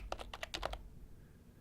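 Rapid typing on a computer keyboard, about eight close, crisp keystrokes in under a second, then quiet room tone.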